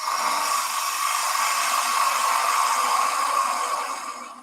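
A woodturning lathe cutting out the inside of a turned box with a 6 mm gouge gives a steady, dense, airy whir with a tonal hum, holding evenly and then tapering off at the end, with no voices.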